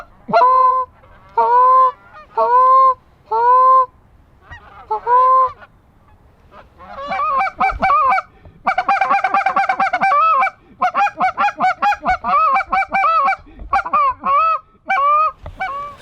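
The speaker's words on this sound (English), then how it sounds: "So we have a flock in the field, birds across the river." A big flock of geese honking in a field by a river, loud repeated honks in bursts, first a few spaced calls then a dense overlapping clamour.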